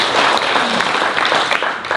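Audience applause at a Korean public debate forum on reducing the number of National Assembly members, a steady dense wash of clapping across the whole stretch, fairly loud and even with no speech on top.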